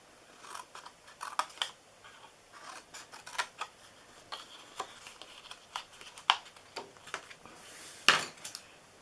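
Scissors cutting paper pieces for a handmade treat box: a close series of crisp, irregular snips with brief pauses between cuts and no voices.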